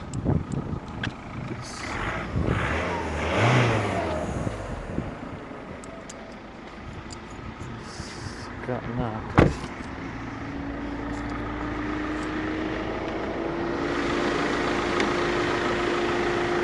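A 2.0 TDI diesel engine in an Audi A3 Quattro idles with a steady low rumble, and there is a brief rise in revs near the middle. A voice speaks briefly over it early on.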